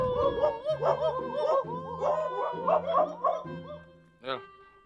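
People mimic dogs with a run of barking, howling and yipping voice sounds, several overlapping close-up calls in quick bursts with a higher yelp near the end.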